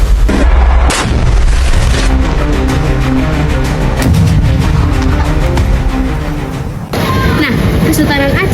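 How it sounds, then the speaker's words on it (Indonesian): Dutch colonial cannons and artillery firing during the Aceh War, a dense barrage of loud, close booms and sharp blasts rolling one into another without pause. "Belanda melepaskan meriamnya lagi"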